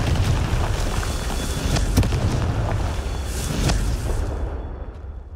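Confringo blasting spell explosions in Hogwarts Legacy: a sustained booming, rushing blast with a couple of sharp cracks, loud and dense throughout before tailing off at the end.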